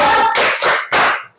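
A group clapping routine used as an ice breaker, with short bursts of unison hand claps in a quick, patterned rhythm and brief gaps between the bursts.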